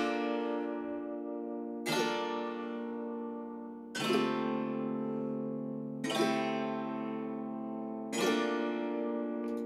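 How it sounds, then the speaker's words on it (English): A harp sound from a MIDI chord pack strummed in full chords, five bright rolled strikes spaced about two seconds apart, each ringing out and decaying before the next, with no voices. "So that's just like a little harp that's being strummed."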